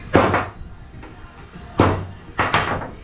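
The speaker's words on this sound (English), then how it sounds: "Now, probably just knock that right out of there." A hammer strikes metal while knocking a part out of a large generator being scrapped: four loud, close, ringing blows in two pairs, with a pause between them.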